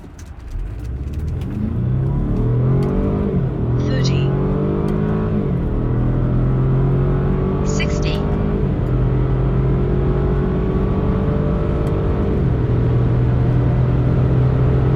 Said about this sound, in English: Hopefully you could hear the engine as well.